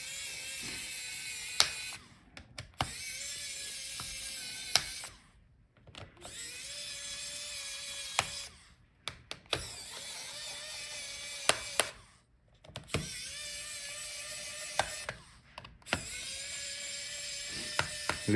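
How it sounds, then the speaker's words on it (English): Screws backed out of the heatsink of a Dell Precision 7550 laptop, with repeated bursts of small whirring driver and ratchet clicks separated by short pauses and sharp ticks as each screw comes loose. "So unscrew all the screws for the heatsink."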